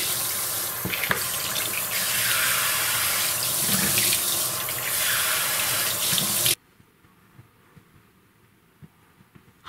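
A bathroom tap running at full flow while someone rinses their face after washing it, a steady close splashing rush that stops abruptly about two-thirds through, leaving faint drips and quiet.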